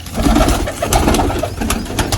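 Pigeons being let out of a cage give soft cooing calls amid wing flutters and rustling, a busy close-up burst with no clear talk.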